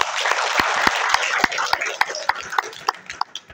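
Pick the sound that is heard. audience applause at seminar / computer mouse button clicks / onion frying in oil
audience applause at seminar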